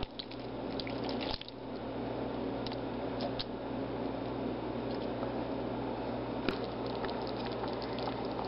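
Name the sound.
undrained hominy being added to chili pot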